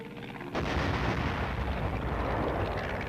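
Sustained rumbling artillery fire during army training erupts after a brief quiet start, loud, dense and continuous like a heavy barrage, with no voices.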